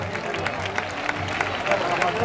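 Crowd applause rises at a Pedrola final, a steady wash of clapping that stays moderately loud throughout with a voice over it.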